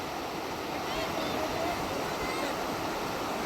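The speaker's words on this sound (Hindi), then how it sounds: "तो वहाँ पे बच्चे स्नान कर रहे हैं और छोटा सा झरना गिर रहा है।" Small waterfall where children are bathing, a steady broadband rush of falling water filling the whole stretch at constant level, close by, with no distinct splashes or voices standing out.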